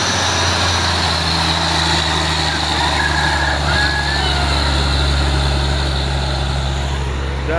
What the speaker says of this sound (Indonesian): Dan si Hino lagi bosku.